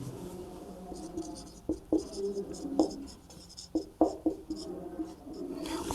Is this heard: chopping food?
no